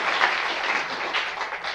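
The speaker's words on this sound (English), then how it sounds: "another round of applause for that" A lecture audience gives a round of applause, a dense, even wash of many hands clapping close and fairly loud, continuous throughout with no talking over it.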